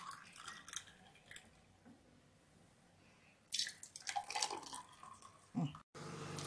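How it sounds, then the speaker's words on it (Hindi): Masala buttermilk is poured into two glasses in a home kitchen, with soft liquid pouring and trickling sounds, a couple of clinks of glass, and some short bursts of louder handling noise partway through. "अभी 2 ग्लास लेंगे और इस पे अच्छे से इसको परोसेंगे।"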